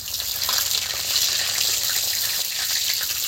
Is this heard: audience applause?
no